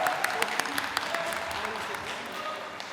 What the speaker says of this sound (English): Big applause to him.